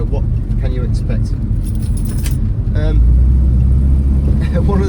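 A 1960s Jaguar E-Type on the road, its engine a steady low rumble with rising road and wind noise as it drives along, heard under continuous close talking.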